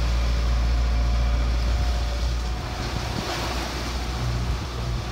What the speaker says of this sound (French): Ça souffle dehors